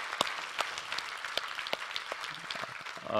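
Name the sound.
congregation applauding in church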